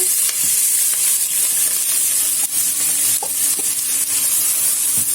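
Finely chopped onion frying in oil and stirred with a spoon, a dense continuous sizzle with occasional scraping taps, close and steady, no talk.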